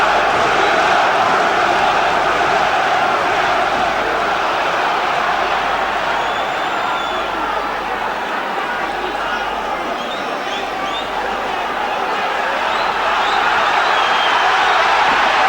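A boxing crowd roars steadily to rally Frank Bruno in his fight against Jumbo Cummings, a dense, continuous wash of cheering that runs throughout under a commentator's voice.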